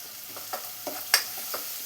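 Two sliced onions fry in a pan for a Kerala-style chicken kurma, giving a steady quiet hiss broken by a few light scrapes or taps, with no voices.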